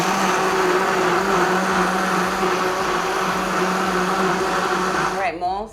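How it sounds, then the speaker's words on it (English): A blender whirs loudly and steadily at close range, its motor humming without pause before winding down at the very end. "And then we're gonna turn on the blender."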